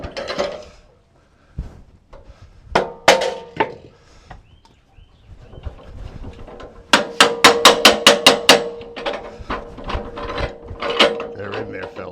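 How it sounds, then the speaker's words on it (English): Small hammer striking metal parts of a Woodland Mills sawmill to free a stuck carriage, sharp clanging blows in scattered single hits and then a rapid burst of about eight quick strikes, with clattering in between. "We need our little hammer."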